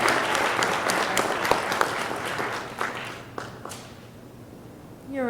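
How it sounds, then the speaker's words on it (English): Applause fills the room for a student being honored at a school board meeting, a steady wash of many hands clapping that thins out and fades toward the end, with a brief squeak at the close. "Give her a round of applause"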